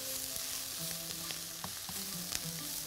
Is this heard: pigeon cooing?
no